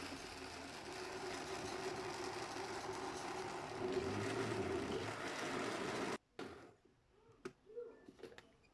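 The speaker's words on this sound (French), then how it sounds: "dans le robot, j'ajoute de l'eau et je mixe encore" A food processor runs with a steady motor whir while mixing ginger juice with water, clove and star anise, then stops, leaving faint clinks and handling noises.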